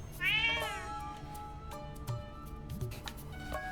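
A cat meows in the Zelda: Echoes of Wisdom video game, a clear rising-falling meow up close followed by softer chirps and small ticking sounds over a quiet game background.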